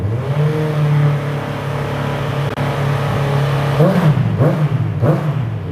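A 2017 Honda CB650F motorcycle engine idles with a steady low rumble, then revs up sharply several times in quick succession, loud and close.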